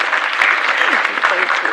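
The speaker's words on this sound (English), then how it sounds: "give them a round of applause." A town hall forum audience gives a steady round of applause, dense clapping close and loud throughout the short burst.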